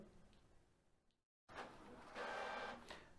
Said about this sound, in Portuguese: Agora terminou de imprimir o teste